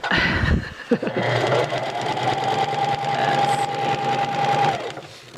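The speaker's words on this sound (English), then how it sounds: "Stretch your elastic out as you top stitch around, creating your case." A sewing machine top-stitches stretched elastic around the casing of a pocket cloth diaper, a steady close whir running for about four seconds after a brief clunk at the start.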